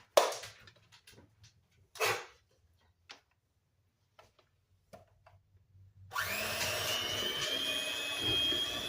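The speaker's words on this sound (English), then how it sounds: "you're going to take your mixer, your hand mixer, and you're going to mix that until smooth" An electric hand mixer beats batter for a Swiss cocoa roll. A few scattered clicks and taps come first, then the motor starts up as a loud, steady, close whirring drone that runs to the end.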